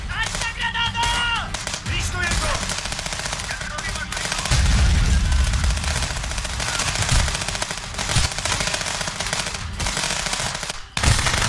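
Sub machine gun fire in the police border-checkpoint video game Contraband Police: loud, sustained rapid bursts of automatic gunfire filling the whole stretch, briefly pausing near the end before resuming.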